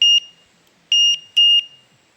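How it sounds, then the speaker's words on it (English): A bear alarm carried on a day pack for a forest hike in Japan gives three short, piercing electronic beeps, loud and close, separated by brief pauses. "the bear alarm."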